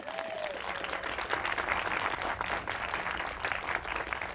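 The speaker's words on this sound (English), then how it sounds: "Give them a big round of applause." Guests at an outdoor backyard town hall in Seattle clap for the hosts, a crowd applauding steadily at moderate distance that sounds somewhat faint and open-air.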